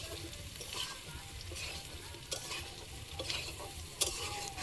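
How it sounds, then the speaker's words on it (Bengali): Potatoes and soybean chunks fry together in a pan, a steady close sizzle with occasional scraping stirs and a few sharper clinks, fairly quiet and without talking. "আলু হাফ ভাজা হয়েছে, এবার সয়াবিনটা দিয়ে একসঙ্গে ভেজে নেব।"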